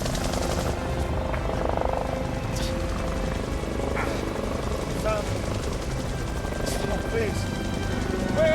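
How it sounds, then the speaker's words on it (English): Helicopter engines drone over a wilderness valley during a search at night, a continuous low throb that holds steady throughout and sits fairly loud in the mix. "I hear the drone of the helicopter engines."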